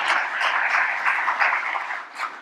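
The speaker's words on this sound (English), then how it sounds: "let's give a hand of applause to Dr." Audience applause after a medical conference talk, a short burst of dense clapping that holds steady for a couple of seconds.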